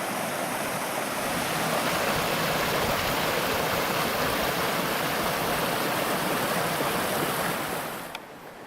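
The Gradac River rushes through its gorge in a loud, continuous roar that stays steady throughout, easing slightly at the very end.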